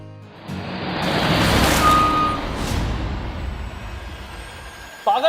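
A large vehicle approaches on a road, a loud broadband engine roar with rumble swelling and then gradually easing, a brief tonal beep partway through, and a short noise at the very end.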